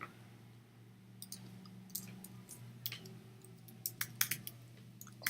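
Several sharp, light clicks scattered over a few seconds in a quiet office room with a low steady hum, like a computer mouse being clicked during on-screen software work.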